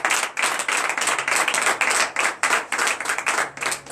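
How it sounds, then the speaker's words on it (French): Church congregation claps in acclamation during morning prayer, a brisk, fairly loud, rhythmic stream of many hands pulsing in regular bursts. "Donnez de vive acclamation à nos Seigneur."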